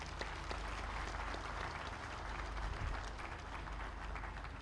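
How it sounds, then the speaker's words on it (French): An audience applauds at the official opening ceremony of a mother-and-child hospital in Bingerville, with dense continuous clapping from a sizable crowd heard faintly and at a distance. "Je vous demande de les applaudir très fort."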